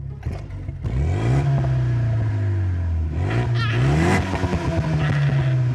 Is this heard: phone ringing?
no